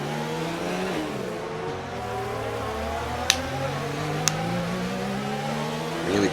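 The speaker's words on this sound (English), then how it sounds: "Really pushing the engine around now." An F1 race car in a career-mode racing game, engine pushed hard and revving steadily with rising and falling pitch through the gears, loud and continuous, with a couple of sharp clicks.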